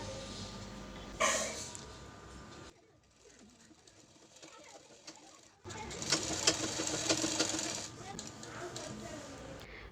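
A sewing machine stitching a blouse runs in bursts of rapid mechanical whirring, stopping and restarting, with a voice talking over parts of it.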